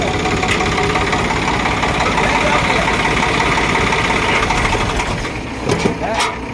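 A Swaraj or Arjun 605 Nova tractor engine idles steadily and loudly on a steep climb, a continuous low rumble with a few brief knocks near the end.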